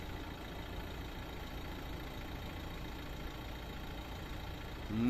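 A 2016 Renault Megane III 1.5 dCi K9K diesel engine, 110 horsepower, idling at a steady low rumble with faint knocking, constant throughout and swelling slightly at the very end.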